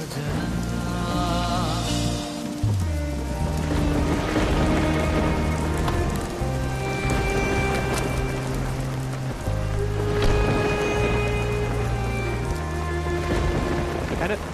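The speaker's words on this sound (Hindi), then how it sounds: "बारिश हो रही है" Steady heavy rain pouring onto surfaces outdoors, continuous and dense throughout, with dramatic background music layered over it and no clear talk.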